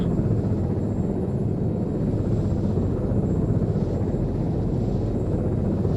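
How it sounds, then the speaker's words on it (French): A small drone flies overhead in the video game Arma 3, giving a steady, even buzzing hum that holds at a constant level throughout, with no talking. "C'est un petit drone."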